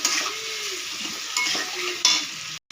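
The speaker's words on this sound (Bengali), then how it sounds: "আলুগুলো দিয়ে কষিয়ে নেব" Potatoes sauté in a hot pan with a continuous sizzle, broken by a few scraping stirs of a spoon against the pan. Close and clear, with a brief cut near the end.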